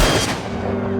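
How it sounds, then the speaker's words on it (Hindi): Gunshot in a movie scene, a single loud sharp blast at the start that decays into a sustained low rumble and ringing tail, with no talk over it. "देखो, गोली चली है।"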